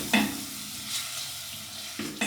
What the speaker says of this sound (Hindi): व्यूअर्स, अब इसमें जो है बोनलेस चिकन डाल दूँगी।